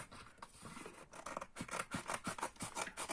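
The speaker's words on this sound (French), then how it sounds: "on y va avec des ciseaux" Scissors cut through paper while an album cover is trimmed by hand. Soft, close snips start out sparse and then turn into a quick run of rhythmic cuts, heard alone and fairly quiet.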